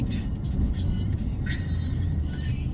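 Steady low engine and road rumble from inside a car driving home on a cool early morning in Korat, with someone talking over it.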